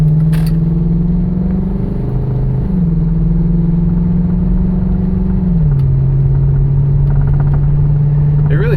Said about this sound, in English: Just light acceleration, nothing crazy.